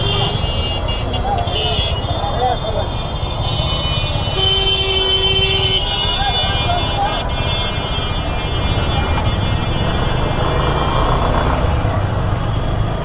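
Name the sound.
heavy traffic jam with car horns in Dhaka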